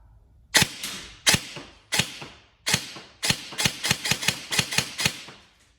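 A G&G ARP9 airsoft electric gun fires on single shot: about a dozen sharp, close, mechanical snaps, spaced out at first and then coming in a quicker run, with no talking.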